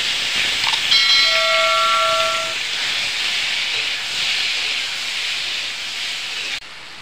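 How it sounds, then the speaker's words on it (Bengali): Spice paste poured into hot oil in a kadai with cumin and bay leaf, giving a loud, steady sizzling hiss with faint whistling tones early on, then a sudden drop at the end; no talking. "এখন আমি গাটিটা ঢেলে দেব কড়াইতে।"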